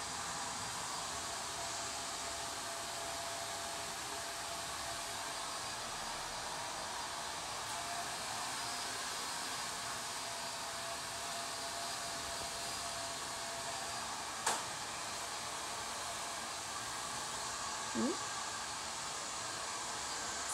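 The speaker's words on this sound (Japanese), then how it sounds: "すごいドライヤーの音するね。" A hair dryer blowing steadily and loudly for the whole stretch, a constant rushing whine with only a couple of tiny clicks and no talk.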